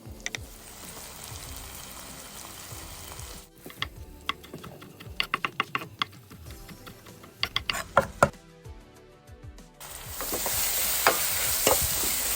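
Vegetables sautéing in a pan for a vegan queso dip, with quiet sizzling broken by bursts of clattering utensil scrapes and knocks, then a louder steady hiss near the end.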